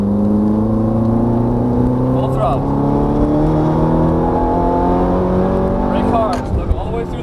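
Ferrari F430 F1 at full throttle on a racetrack in Los Angeles, the engine climbing steadily in pitch as it accelerates hard, loud and continuous, with a brief gear change near the end.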